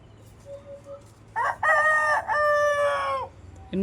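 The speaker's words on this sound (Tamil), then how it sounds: "ஒருத்தி கூவினானா இன்னொருத்தி கூவும்" A native chicken rooster gives one full, close and loud crow lasting about two seconds, rising after a few soft clucks.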